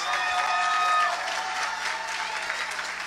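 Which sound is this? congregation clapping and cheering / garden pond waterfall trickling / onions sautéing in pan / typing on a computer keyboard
congregation clapping and cheering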